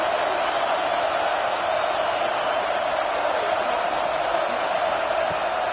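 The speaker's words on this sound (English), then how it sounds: "This crowd, full throat, spreading the eardrums and letting them know it's going to be a long day." Steady roar of a large football stadium crowd at an Ole Miss vs Texas A&M game, a dense continuous wash of voices holding at full volume throughout with no individual voice standing out.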